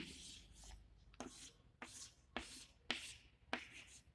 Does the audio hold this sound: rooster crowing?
no